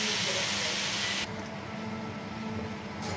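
Frozen shrimp sizzle as they sauté in a pan for sinigang, a loud, close, steady hiss that softens partway through.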